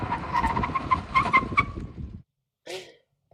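A 2023 Honda City 1.2 CVT brakes hard from 100 km/h, tires scrubbing and squealing briefly before stopping, followed by silence and a short faint sound.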